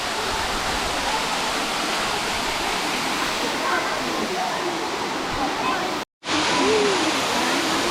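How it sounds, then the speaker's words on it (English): Waterfall in a Himachal Pradesh valley, a loud, continuous broadband roar of rushing water close by, with a brief drop to silence near the end before the roar resumes. "So guys, very beautiful waterfall"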